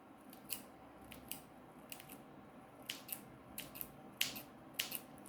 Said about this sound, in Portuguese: Com cuidado para não cortar muito, vai cortando aos poucos.